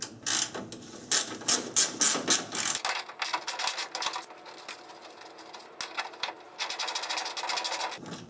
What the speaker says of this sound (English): So the first step is to remove this AC bracket here, two 10 millimeter bolts.